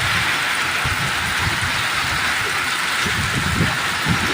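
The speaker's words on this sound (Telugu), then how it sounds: "మోస్తారు పాటు వర్షం కురుస్తున్న దృశ్యాలు ఇప్పుడు మనం చూస్తున్నాం" Steady rain pours down in Pulicherla mandal in a dense, even hiss, with a low rumbling undertone, constant for the whole stretch.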